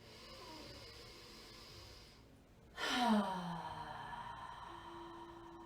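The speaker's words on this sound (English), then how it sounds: "take a slow breath in through the nose, exhale through the mouth" During a yoga session, a person draws a quiet breath in through the nose, then releases a louder, drawn-out sighing exhale through the mouth, close and alone against faint room tone.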